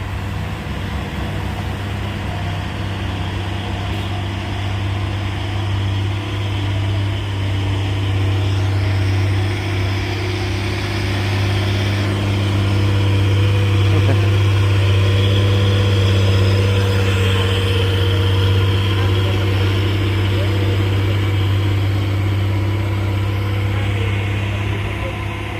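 A Hino truck engine runs steadily with a deep, droning low rumble throughout, swelling slightly in the middle as it works harder, heard close and continuous on a hilly road.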